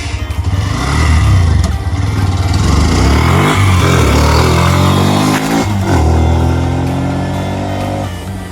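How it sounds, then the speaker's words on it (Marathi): A motorcycle engine roars loudly and close up while riding at speed, its pitch rising and falling through gear changes, with wind rush and a slight easing toward the end. "बाईक कसली स्पीडला गेलेली आहे आपली. आवाज पण मस्त येतो इकडे"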